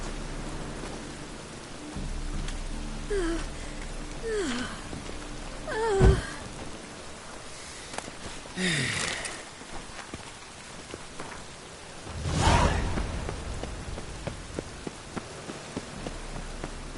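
Rain falls in The Witcher 3, a soft, steady patter across the whole stretch with low rumbles of distant thunder swelling twice, quiet overall and without voices.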